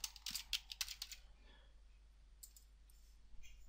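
Fingers tap quickly on a computer keyboard in a quick burst of crisp, close clicks, then a pause and a few more faint keystrokes near the end.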